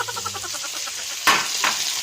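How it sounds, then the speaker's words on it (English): Hot oil crackles and sizzles steadily around wet crinkle-cut fries, with a sharp clatter and a surge of louder hissing partway through. "Hear that sizzle? That's because there's water on those fries."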